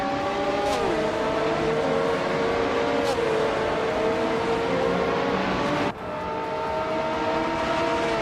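A Ferrari F430 GTC race car engine in a racing game wails at high revs with steady harmonic tones, loud and close, with gear shifts making the pitch step and glide several times.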